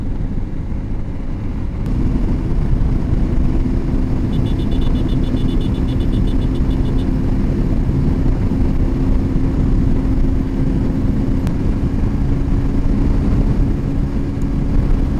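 A car speeds along the Patenga sea beach road at about 120, producing a loud, constant roar of engine, tyres and wind with a steady hum throughout.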